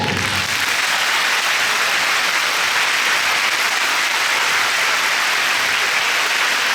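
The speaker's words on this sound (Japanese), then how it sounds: "拍手で" A concert audience on a live tour applauds in a dense, steady wash of clapping that fills the space, loud and continuous without cheering or voices.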